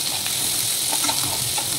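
Finely chopped onion and green chillies frying in a pan, a short burst of steady close sizzle with faint stirring.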